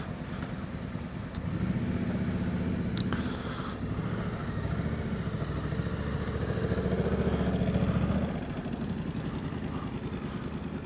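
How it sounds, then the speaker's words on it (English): Motorcycles riding along a road on a sunny bank holiday, recorded from a moving bike with constant wind and engine rumble and a swell of passing engine noise midway. "there are lots and lots and lots of motorcycles out today."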